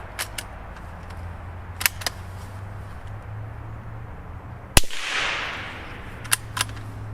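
A .22LR pistol fitted with a WhisperStrike silencer fires at a soda can. Several quiet, sharp pops come in scattered pairs, and one louder crack is followed by a brief spray-like hiss from the hit can.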